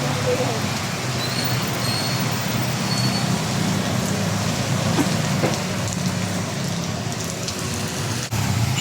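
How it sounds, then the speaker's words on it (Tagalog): Steady rain hisses and patters across the whole stretch at a road crossing in Calamba, Philippines, with a low roadway rumble beneath it and faint passing traffic. "Ayan po, naulan."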